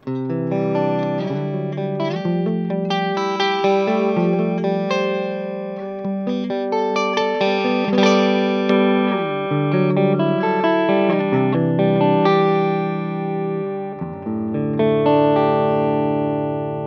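A dense, continuously played electric guitar through a Mesa/Boogie JP2C+ tube amp with a warm, rounded, muted jazz-like tone, chords and single notes running steadily for the whole stretch with no talking.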